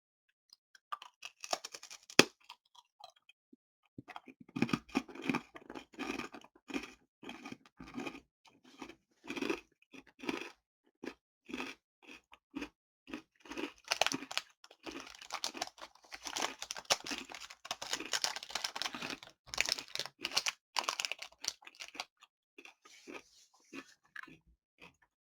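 Cheese cashew and aonori senbei rice crackers are crunched and chewed close up in irregular crisp bursts with short pauses, and no talking.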